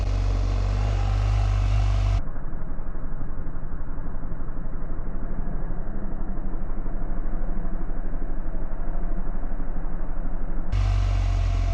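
Motorcycle engine running steadily as the bike leans through a low-speed counter-steering demonstration, a continuous mid-level drone and hum, with louder passages at the start and end.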